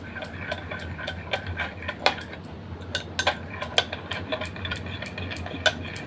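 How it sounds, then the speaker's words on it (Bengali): Sour yogurt whisked with a little salt and sugar in a bowl, giving a steady run of light scraping and irregular clicks of utensil against the bowl, close and fairly quiet, with no talk. "বেশ ভালো করে ফেটিয়ে নেব টক দইটা।"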